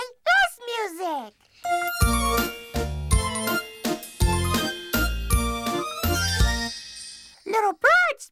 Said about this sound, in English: Unless it's a music box.